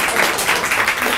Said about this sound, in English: if you give me a few more claps